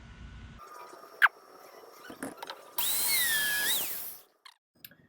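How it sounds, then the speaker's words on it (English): A power drill bores dowel holes in wood in a short whining burst of about a second and a half, preceded by a few clicks and knocks and followed by quiet handling. "I gotta drill dowel holes first"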